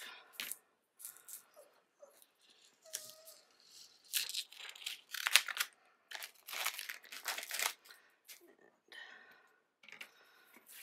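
Vinyl transfer tape being peeled back off an acrylic sheet: soft crinkling and sticky tearing bursts come and go irregularly, close but quiet, with brief pauses between pulls.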